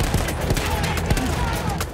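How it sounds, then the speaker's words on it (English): Rapid gunfire bursts crackle in a Battlefield 1 battle on hard difficulty, a dense fusillade of close shots under brief speech. "someone's shooting me."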